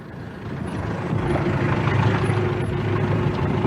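A taxi's engine grows louder as it pulls up and idles with a rumbling, slightly hissing tone, staged as a radio drama sound effect.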